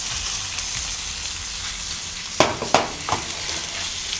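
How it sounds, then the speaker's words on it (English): Cooked meat tossed in a hot pan with poblano and shallots for Cinco de Mayo tacos, a constant sizzle broken by two sharp utensil scrapes and a softer one near the end. "you're going to then add the poblano with the shallots together, and then you're going to mix it"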